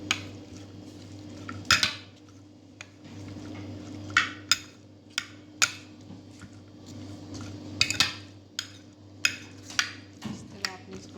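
Fruit salad with honey being mixed in a bowl: a spoon clinks and taps against the sides in irregular bursts over a low steady hum, close by with no talk.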